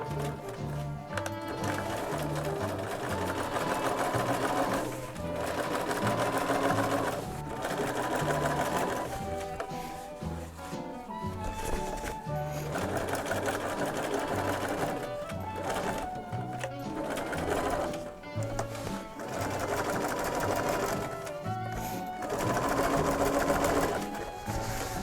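A sewing machine stitches rain cape fabric in long, fast, buzzing runs with short pauses between them, loud and close.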